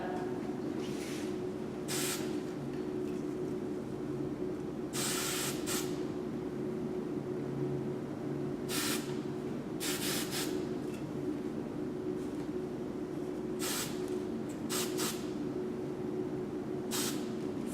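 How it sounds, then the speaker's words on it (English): Short hissing bursts of hairspray onto hair while styling, several separate sprays of about one second each, close and clear, set against a steady background hum. "I'm just gonna give it a little spray just to make sure that this hair doesn't get in the way"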